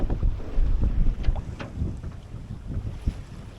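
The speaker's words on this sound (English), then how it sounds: "Oh, big gust about to hit us." Wind gusting over a Grand Soleil 40 sailboat under way, a steady rushing roar with low buffeting and water wash that swells and eases in waves, loud and close with no speech.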